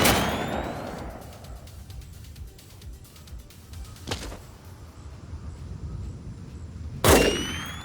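Sniper rifle shots in the war strategy video game WarPips: a sharp loud crack near the start, a fainter shot around four seconds, and another loud crack near seven seconds, each ringing out over a low battlefield rumble.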